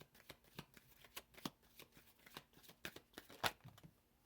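Tarot cards are shuffled and drawn from the deck, giving a quick run of crisp flicks and snaps close to the microphone, with one sharper slap near the end.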